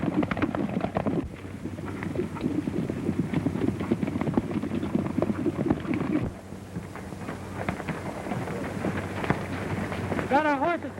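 Horses trotting in an old Western setting in Arizona, with steady hoofbeats running under continuous voices and talk throughout, the sound fairly close and mixed with the conversation.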